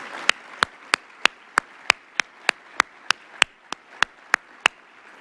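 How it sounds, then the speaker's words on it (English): Applause for staff serving food at a mayoral event comes through as a steady run of sharp, evenly spaced single claps, about three per second, close to the microphone and distinct over a quiet background. "Give them a round of applause for their hard work."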